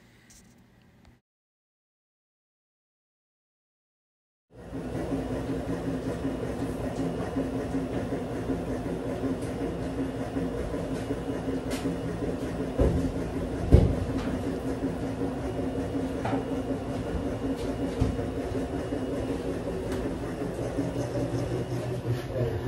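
A honey extractor motor spins weighted frames after several seconds of silence, a steady whirring drone with faint rattles and occasional knocks, continuous to the end.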